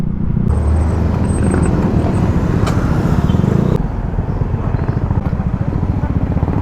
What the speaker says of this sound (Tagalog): nagsisimula na nga ang build up ng traffic dito sa may sa may Sambat papuntang Bawan